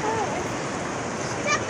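Water splashing at the cold Nagfani river, a dense steady rush and spatter close by, carrying on without a break for a couple of seconds.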